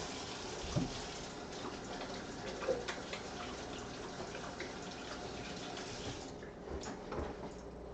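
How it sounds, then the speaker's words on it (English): Running tap water while hands are washed at a kitchen sink during taco prep, a steady close rush of water with a few splashy bumps and rubbing, no talking. "All right, so let me wash my hands."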